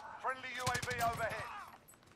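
A quick volley of gunshots from a first-person shooter video game rattles out in a dense burst over about a second, overlapping a voice speaking at the same time.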